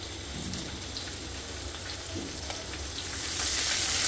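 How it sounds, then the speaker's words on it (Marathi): Asafoetida, dried red chillies and green chillies sizzle in hot oil with a constant close hiss and scattered crackles that swell louder toward the end. "सुके मिरच्या आहेत, हिरवी मिरची तोडून घालते मी."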